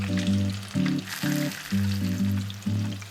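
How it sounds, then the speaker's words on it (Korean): Tuna and wild fatsia shoots deep-frying crisply in oil for a spring mountain-village side dish, a loud steady sizzle and crackle with bursts of bubbling that rise and fall in repeated surges, no talk. "기름에 바삭하게 튀기면 향긋한 나물 냄새가 물씬 나는 고급 반찬이 만들어집니다"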